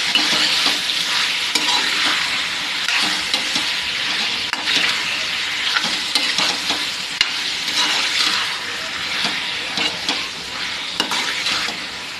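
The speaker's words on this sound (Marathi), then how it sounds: "ह्याच्यामध्येच आता आपण टाकूया पोट्टा कलेजी. हा धुवून घेतलेला पोट्टा कलेजी आहे, खूप जास्त आहे. मस्त खालीवर करून घेऊया." Chicken gizzards and liver sizzle steadily in a hot pan while being stirred, with a dense, continuous frying hiss and intermittent scraping of the spoon throughout.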